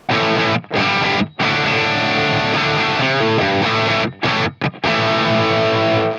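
Electric guitar through a Fractal AX8 plays a dry rhythm tone, strumming chords in a dense, slightly gritty sound, with brief muted stops between loud sustained phrases.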